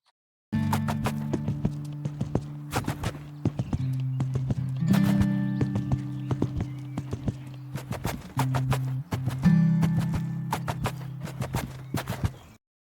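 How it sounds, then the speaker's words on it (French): In a video game, a horse walks through snow with soft, evenly paced hoofbeats that continue throughout, over a looping music track. "c'était pour vous faire écouter les bruits des sabots dans la neige, qui est super méga satisfaisant"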